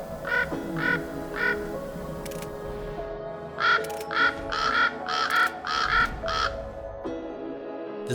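Ravens in the Verdugo Mountains near Burbank, California give a series of hoarse croaking calls, three spaced caws first and then a quicker cluster of about eight, moderately near over faint outdoor hiss and background sounds.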